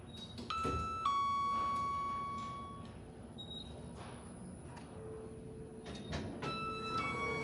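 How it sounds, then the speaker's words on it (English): The newer arrival chime of an Otis Gen3 elevator at a Moxy Hotel in Omaha rings as a few clear, sustained electronic tones spread across several seconds over a hum of lobby background noise. "Also, watch this, it has the newer chime."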